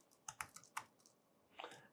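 Code being typed on a computer keyboard: a few scattered key taps in two small clusters, close but quiet, with no one speaking.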